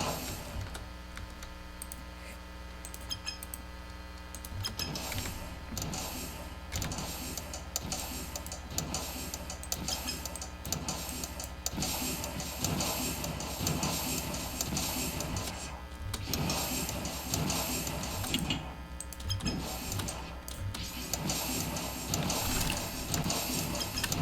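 Several metronomes in the People Playground video game ticking out of sync, forming a dense, cluttered clatter of overlapping clicks that runs continuously at a steady level with no voices.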